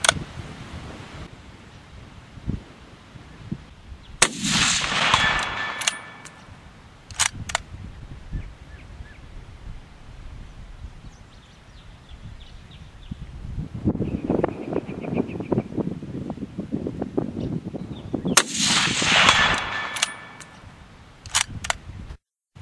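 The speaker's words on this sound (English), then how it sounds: "We'll try to put 3 rounds on the target down there." A GA Precision Non Typical hunting rifle fires at a 300-yard target in strong wind: two sharp, loud cracks about fourteen seconds apart, each with a short fading tail, over steady gusting wind noise.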